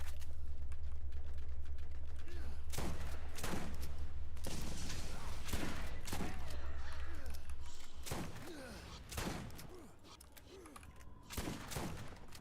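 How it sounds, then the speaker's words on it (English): Repeated shotgun blasts from the game Borderlands, sharp booming shots spaced a second or two apart, loud and close over a steady low hum, with game effects in between. "That's such a good shotgun."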